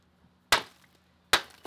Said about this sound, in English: Even when struck with a hammer, the reinforcement stops cracks from propagating quickly.